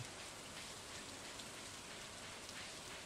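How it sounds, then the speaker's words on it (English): Steady rain falls in the farming video game Stardew Valley, a dense, even hiss of drops with no breaks, continuous and fairly soft throughout. "It's raining."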